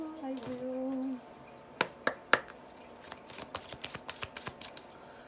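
Oracle cards handled during a card reading make a quick series of crisp taps and flicks, a few sharp ones first and then a rapid patter of light slaps, close by.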